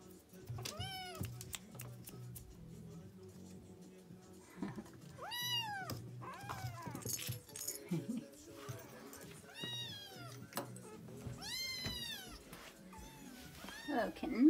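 Several Siamese kittens meow repeatedly in a playroom, high rising-and-falling cries in close clusters, while someone talks softly over them.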